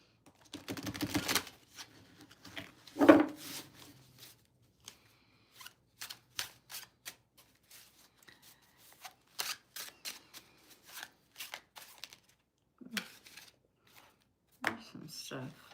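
A deck of cards is shuffled in quiet, intermittent bursts of soft riffling and light taps, with a few longer shuffles and pauses between them.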